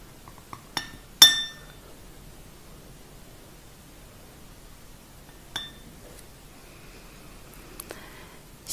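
A coffee cup for fortune telling gives a few sharp, bright porcelain clinks as it is lifted and opened: one strong clink near the start, then fainter scattered taps over a quiet background, with no talking.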